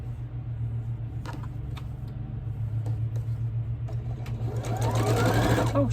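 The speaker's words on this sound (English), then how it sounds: "I always forget to turn that speed back down before I wind the bobbin" A home sewing machine winds a bobbin at high speed, giving a loud, steady close-up whirring hum that runs through the whole stretch and rises in pitch near the end, with a few faint clicks.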